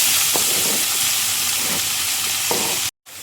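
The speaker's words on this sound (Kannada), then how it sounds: "ಇದು ಸ್ವಲ್ಪ ಫ್ರೈ ಆಗ್ತಿರುವಾಗಲೇ ಕಟ್ ಮಾಡಿ ಇಟ್ಕೊಂಡಿದ್ದ ಈರುಳ್ಳಿ ಹಾಕ್ಕೊಳ್ತಿದ್ದೀನಿ" Chopped onions frying in hot ghee in a pan for egg ghee roast, a steady close sizzle with a few soft stirring scrapes, cutting out briefly near the end.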